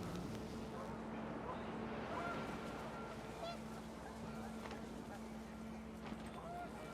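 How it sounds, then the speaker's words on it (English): Panicked geese honk in the video game The Remains of Edith Finch, a few scattered calls rising over a steady windy rumble and a low hum. "The wind picked up, and panicked geese appeared and quickly went."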